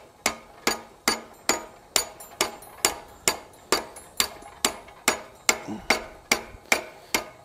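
A hammer strikes the tab of a hand-forged steel spatula to bend it, about sixteen sharp, ringing metallic blows at an even pace of roughly two per second, close and clear with no speech.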